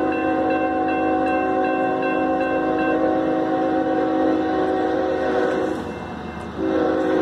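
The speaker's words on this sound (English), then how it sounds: "All right, we got a CSX Freight Train." A loud CSX freight train rumbles close by through Effingham, Illinois, with a long, sustained horn blast, its steady drone easing briefly near the end.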